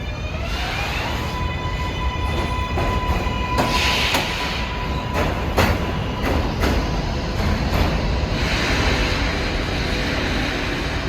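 An NYC 7 subway train runs on the elevated structure above a station platform, a sustained rolling rumble with high metallic squeals and clanks over it, steady and fairly loud, with no talking.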